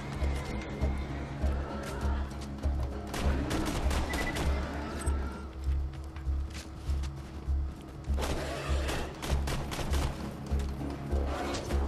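Gunfire from the video game Borderlands 2, with bursts of rapid automatic shots and heavy thuds repeating throughout, loud and continuous under a steady low rumble.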